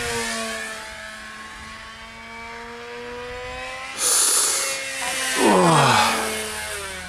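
A small 3D printed BF109 F model airplane flies overhead, its electric motor a steady whine that surges louder, then swoops past with a falling Doppler pitch.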